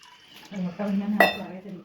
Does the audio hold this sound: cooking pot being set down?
yes